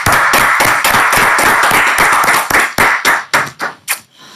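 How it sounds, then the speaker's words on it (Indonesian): An audience claps for a professor being introduced at an Indonesian religious talk: dense, steady clapping that thins out into a few separate, decaying claps before fading. "Tepuk tangan."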